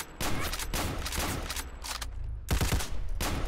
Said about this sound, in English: Matt just spray firing like a madman